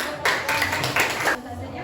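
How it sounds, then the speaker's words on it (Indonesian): A classroom group claps in short bursts, with a few loud rounds of applause separated by brief pauses across under two seconds. "Oke, kasih aplaus dulu."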